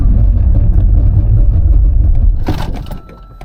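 A 2024 BMW X6 M60i brakes hard during a road test: loud, low engine and tire rumble fills the first couple of seconds, then a brief scraping burst as the SUV stops, and the noise fades toward quiet.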